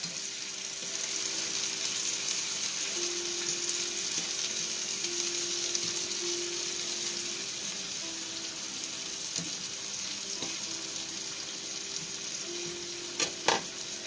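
Turkey breast and peppers fry in a pan with a steady, dense sizzle that holds for the whole stretch, with a few brief clinks and stirring knocks near the end and no voices.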